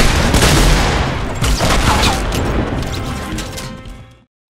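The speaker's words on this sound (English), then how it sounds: "Oh, he's shooting me." Loud bursts of gunfire ring out in Fortnite, with rapid overlapping shots and booms crowding the first seconds, then thinning and cutting off abruptly near the end.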